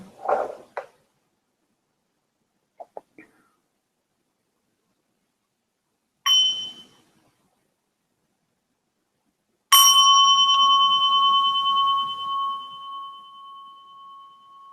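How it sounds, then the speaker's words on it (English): A meditation bell is struck once and rings out clearly, its bright tone sustaining and slowly fading in a quiet room, after a softer brief chime and small taps. "And I'll offer a sound of the bell."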